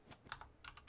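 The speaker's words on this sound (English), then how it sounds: "That noise that you hear, it's my keyboard." Noisy computer keyboard space bar being pressed, a handful of quick, close clicks and taps in an irregular typing rhythm with no voices.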